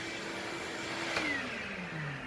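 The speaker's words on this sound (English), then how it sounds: "This is going to be the first time I've used my brand new shop vac." Brand-new shop vac running steadily, a fairly faint continuous whine and rushing airflow whose pitch shifts slightly downward near the end, with no voices over it.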